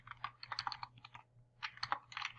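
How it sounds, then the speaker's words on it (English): Text is typed into a profile bio on a computer keyboard: close, quick clusters of keystrokes with a short pause in the middle and no voices. "you would go into that profile text and you would type"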